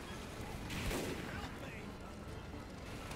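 Single loud sniper shot in Team Fortress 2, a sharp blast near one second that rings out over dense battle noise and constant game din.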